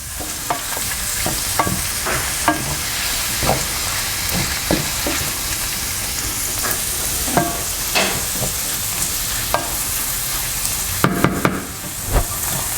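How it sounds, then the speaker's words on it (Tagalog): Onion, garlic and tomato sautéing in a hot pan, a steady close sizzle broken by frequent sharp scrapes and clacks of a spatula stirring, with a quick burst of clatter near the end and no talking. "Ilalagay na natin tong onion, garlic, and tomato. Mamaya na natin siya titimplahan. Igigisa muna natin ito maigi."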